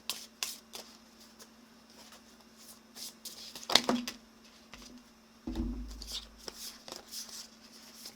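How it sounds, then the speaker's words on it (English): Tarot cards are shuffled by hand in a quiet room, with irregular close crisp card slaps and slides, a louder snap midway, then a brief low thump and more soft shuffling; there is no talking. "Let's shuffle here."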